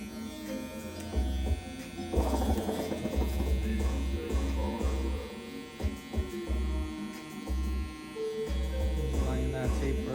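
Electric hair clippers with a number 1 guard buzz steadily while cutting a high taper, a close humming drone broken by short pauses, with music playing throughout.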